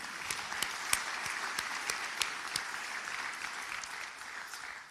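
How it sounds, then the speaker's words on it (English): Audience applause fills a hall during Richmond Mayor Stoney's farewell address: steady, moderately distant clapping with sharper individual claps popping out, fading slightly toward the end. "That deserves another round of applause."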